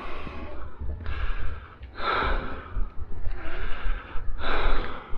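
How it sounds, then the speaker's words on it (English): Heavy, labored breathing comes after climbing the stairs of a Cornish castle. It is close and loud, with about four long rasping inhale-exhale cycles and gasping, snorting breaths. "I'm trying to get my breathing back"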